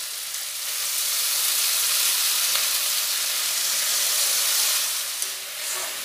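Spinach is dropped into a pan of frying vegetables, raising a loud, steady sizzle and hiss that holds throughout and eases slightly toward the end.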